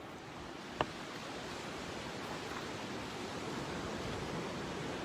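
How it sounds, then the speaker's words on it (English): Soft, steady ocean waves wash against a beach in the background, a continuous low hiss of surf with one brief sharp click near the start and no voices. "Can you hear the waves in the background now?"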